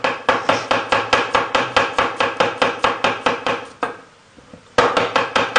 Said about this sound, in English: All right, let's keep on chopping them up.